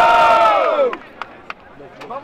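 Crowd at a street rap battle roars and shouts, loud at first, then fading into scattered whoops and claps.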